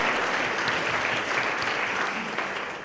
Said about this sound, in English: the applause is all for Tony